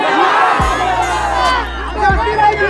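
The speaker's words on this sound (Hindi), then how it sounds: "जनता की ये बेशुमार भीड़ जो कि सैलाब की तरह उमड़ पड़े हैं" A large, dense crowd at a ward election gathering, with loud cheering, whoops and children shouting over a constant close babble of many voices.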